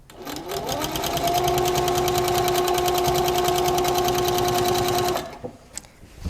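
Pfaff Powerquilter quilting machine running a tension test stitch, a loud steady mechanical whir with rapid needle rhythm for about five seconds, then stopping abruptly with a few faint clicks afterward.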